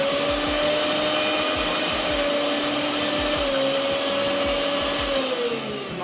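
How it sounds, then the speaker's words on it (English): Bajaj Classic 750 watt mixer grinder running with no jar fitted, a loud, steady high-pitched motor whine with a constant pitch that holds for several seconds, then dips slightly near the end. "we will run it over electricity and check if the motor is running properly"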